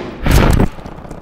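A burst of gunfire in Call of Duty Black Ops: Cold War, a loud, dense volley of shots lasting under half a second, fading into low game noise afterward.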